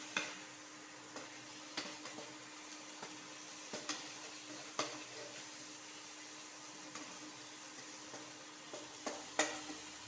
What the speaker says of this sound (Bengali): আলু আর টমেটো মশলার সাথে ভালোভাবে মিশিয়ে নিতে হবে